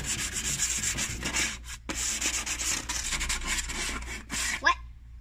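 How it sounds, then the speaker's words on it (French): Light oak board being sanded by hand for a furniture top, rapid repeated rubbing strokes close up, steady and moderately loud, with a short pause midway and a small clatter near the end. "j'ai eu de l'aide pour le ponçage"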